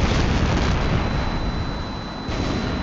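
A missile-struck target bursts in the jet combat game H.A.W.X., a loud, close, broadband blast that rolls on and fades slowly over a few seconds with no voices.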